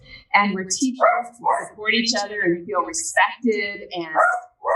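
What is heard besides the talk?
dogs barking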